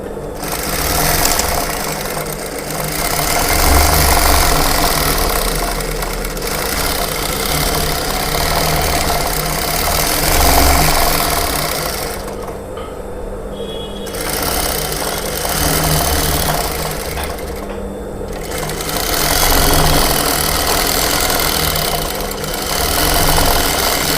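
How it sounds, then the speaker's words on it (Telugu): A sewing machine stitches a seam on blouse lining at a ladies' tailoring bench, a loud steady mechanical whirring run with two brief pauses, close up, no talking. "ఇప్పుడు మీదికి ఒక కుట్టు వేసుకుందాం."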